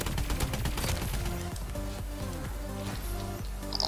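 Repeated gunfire from a downloadable-content weapon in Call of Duty: Advanced Warfare, dense rapid shots and bursts in a busy multiplayer match, loud and steady throughout.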